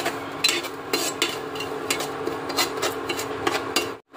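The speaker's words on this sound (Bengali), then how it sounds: "আর এটা ভালো করে লাল করে সুজিটা ভাজবো না, হালকা করে ভাজবো" Semolina lightly fried in ghee for a sweet, stirred with a metal spoon that scrapes and clinks against the pan in quick repeated strokes over a soft sizzle, close by.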